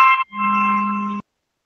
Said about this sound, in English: Somebody's telephone. Sounds like the AT&T ring.